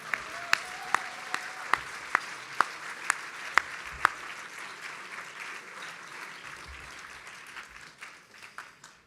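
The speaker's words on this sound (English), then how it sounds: "Let's clap for Rohit again." An audience at a gala applauds, starting with a few loud, sharp, evenly spaced claps before the sound spreads into steady crowd clapping that slowly fades.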